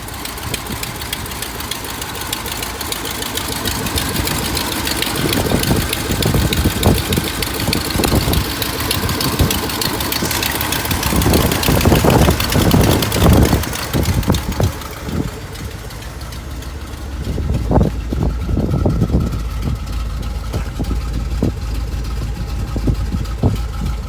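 A 1963 Ford Galaxie 500 XL convertible's engine running steadily, loud and close, with a broad continuous rumble and occasional revving surges under it.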